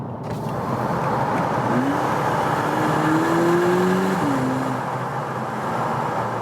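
A steady low engine drone heard from inside the cabin of a 2022 VW Polo GTI, with a faint tone rising and falling as the engine revs, no talking.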